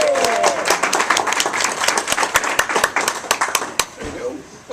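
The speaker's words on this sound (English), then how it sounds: "Give him a big round of applause." Audience applause for a comedian at a comedy show, a dense burst of many hands clapping close and loud, with scattered crowd noise.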